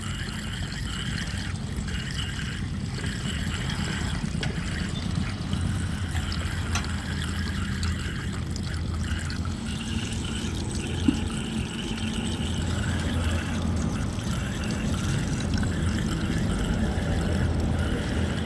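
Drinking water from a truck's onboard tank keeps flowing into a container in a continuous, even pour, near and moderately loud, with a faint low hum underneath.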